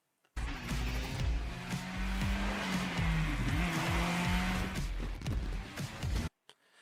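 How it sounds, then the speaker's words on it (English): An Indy car in The Crew Motorfest sweeps through a banked corner, its engine droning at a steady high pitch with shifting revs and tire noise, loud and close, cutting off abruptly near the end. "An Indy car on a banked corner."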